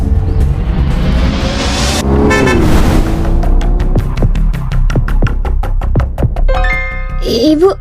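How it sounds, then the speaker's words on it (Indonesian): In the Sakura School Simulator game, a car roars past close by, then honks a rapid series of sharp repeated toots, ending with a brief electronic tone. "Hampir aja tadi keserempet mobil baru itu."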